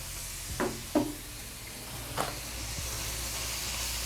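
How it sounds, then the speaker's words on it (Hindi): Garlic and ginger frying in a pan for a masala fish curry give a faint, steady sizzle, with a few soft knocks from stirring early on. "इसको आप 2 मिनट के लिए इसके अंदर भूनेंगे ताकि जो लहसुन और अदरक का कच्चापन है वो ख़त्म हो जाए"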